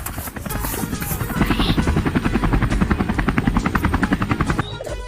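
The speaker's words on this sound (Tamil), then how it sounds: "சாம் டாலிஷ், சீக்கிரம் போய் அந்த ஹெலிகாப்டர்ல உட்காருங்க." A helicopter's rotor thumps in a fast, steady rhythm, loud and close, before cutting off abruptly near the end.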